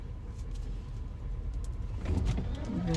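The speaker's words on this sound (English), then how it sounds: "I'm waiting on the trash truck to pull off" A trash truck pulls off, its engine rumbling softly at first and then growing louder and rougher as it moves away, heard alone at a moderate distance.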